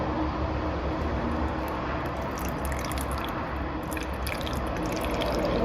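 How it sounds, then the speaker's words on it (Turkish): Drinking water is poured into the tank of a Kivi KSI-6450 garment steamer, a steady close trickling and splashing wash of liquid that runs continuously with no talking. "Ben içme suyu koyuyorum"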